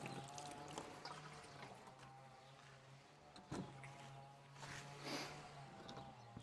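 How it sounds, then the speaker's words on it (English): Water is poured over seeds in seed trays to soak them thoroughly, a faint trickling and splashing with a low steady hum behind it and a couple of brief knocks. "make sure there's plenty of water in there."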